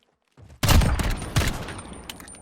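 Pistol shots in Call of Duty Modern Warfare on PS4, a quick volley of loud, sharp gunfire cracks after a short lead-in, with the reports ringing out briefly and no talk over them.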